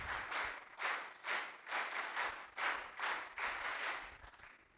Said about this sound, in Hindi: तो बजाइए वीर ताली।